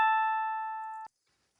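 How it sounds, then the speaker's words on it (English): Synthesized chime sound effect generated by Python code, a single clear bell-like tone that fades slowly for about a second and then stops abruptly, alone with no talking. "Chime."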